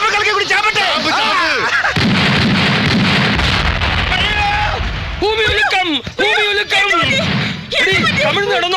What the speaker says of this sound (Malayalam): ഇതാ കോളനിക്കാര് പടക്കം പൊട്ടിക്കുന്നതാ